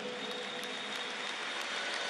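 Applause for the Bolivarian National Guard at a Venezuelan official event, a brief, even wash of distant clapping from a large crowd with no voices.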